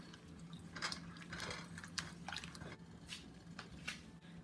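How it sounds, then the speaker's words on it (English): Peaches, sugar and fresh lemon juice stirred in a pot, soft wet squishing and scraping in short uneven strokes, quiet and close, with no talking. "We're going to give all these a quick stir."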